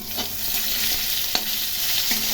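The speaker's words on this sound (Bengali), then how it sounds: "এখন আলুগুলো ভেজে নিচ্ছি" Potato pieces fry in a pan with a continuous close sizzle, broken by several sharp scraping strokes as they are stirred.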